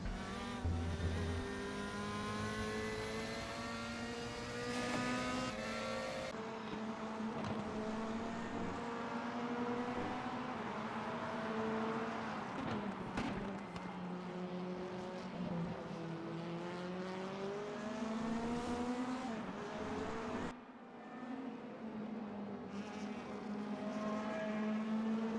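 DTM race cars in the RaceRoom racing game, a pack of engines droning and rising in pitch through gear changes, steady and loud with overlapping revs and brief shifts, no talking.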